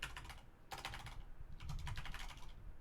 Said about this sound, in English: Like my really loud keyboard